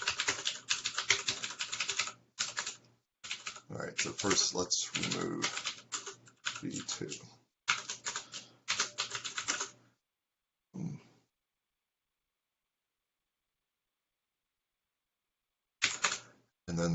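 Computer keyboard typing during an online team meeting, with clusters of quick clicks mixed in with a man's speech and a few brief isolated taps after long silences.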